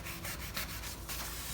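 Medium-grade foam sanding pad scuffing around the edges of a vehicle before bed-liner paint, a steady close rubbing rasp with faint rhythmic strokes, no talking.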